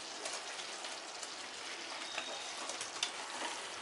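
Fried paneer hits a hot pan and sizzles, a soft, steady hiss with faint crackles throughout, fairly quiet and without talk.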